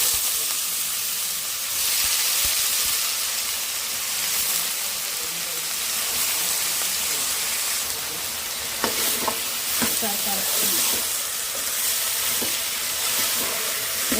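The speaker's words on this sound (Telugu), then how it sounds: "కడిగి పెట్టిన బీరకాయ వేసుకుందాం." Washed ridge gourd dropped into a hot pan, setting off a steady loud sizzle and hiss with scattered crackles and a few stirring clinks, close and continuous without talk.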